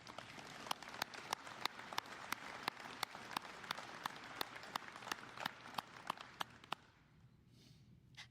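Veterans Day audience at Marysville High School applauding, a steady run of sharp, evenly spaced claps heard faint and distant in a large room, tapering off into quiet near the end.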